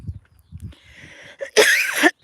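Two or three harsh, close coughs burst out near the end, following a few faint rustles and a soft hum.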